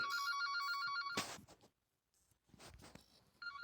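A telephone rings in the horror video game The Baby in Yellow, a steady electronic ring repeating through the first second, breaking off, then starting again near the end with some soft game noises between.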